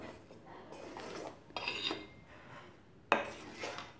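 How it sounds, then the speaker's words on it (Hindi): Spoon scraping and clinking against a pan while stirring milk with dry fruits, steady soft rasping strokes with a couple of sharper metallic knocks, close and alone. "इसे हमें कंटिन्यू हिलाते भी रहना है ताकि ये जो ड्राई फ्रूट्स के जो हमने डाले हैं वो जले नहीं"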